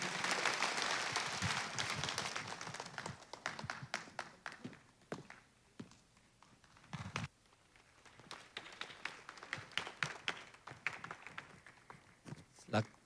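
Applause from a church congregation welcoming a pastor to the front to preach, loud and dense at first, then thinning into scattered claps and taps over the remaining seconds.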